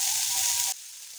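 Cauliflower frying in hot oil gives a bright, steady sizzle close by. It drops abruptly to a faint hiss partway through as the pieces are lifted out.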